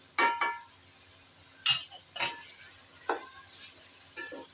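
A spoon stirs a chicken, potato and cauliflower curry with salt, chili, turmeric and dried coriander in a pan. Several close, sharp scraping strokes and clinks come in bursts over a soft sizzle, with no talking.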